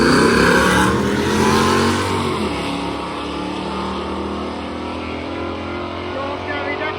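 A modified Chevy truck engine revs loudly at a test-and-tune event, a deep roar that eases off after a couple of seconds into a steady throbbing idle. Crowd or voice sounds mix in at the track.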